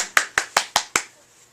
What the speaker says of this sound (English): Let's give them each a round of applause